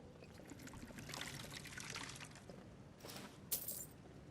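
Water trickles and splashes as it is poured in Skyrim, faint and close, with a brief bright clink near the end and no speech.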